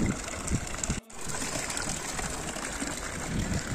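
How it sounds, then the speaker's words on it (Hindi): Water pours steadily from a stone drinking fountain in Italy, a continuous close splashing gush that briefly cuts out once near the start before resuming, with no talking. "ये देखो ऐसे पत्थर का है और उसके अंदर से पानी आ रहा है।"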